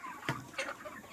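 Chickens clucking inside a poultry shed, two short close clucks rising over a low, steady background murmur of the flock.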